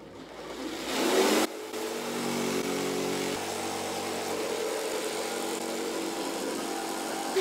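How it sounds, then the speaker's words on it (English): A power tool runs inside a van under construction, starting with a brief loud burst of harsh noise, then settling into a steady, sustained motor drone at close range with no talk. "we're using a power tool right now in the middle"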